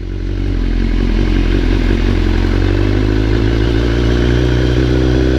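A BMW S1000R motorcycle engine idles and runs steadily close by, a continuous loud mechanical drone with clattery texture before the rider pulls away on a hot day.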